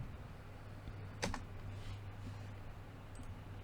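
Faint computer keyboard typing during a correction, with one sharper key click standing out amid quiet scattered taps over a low background hum.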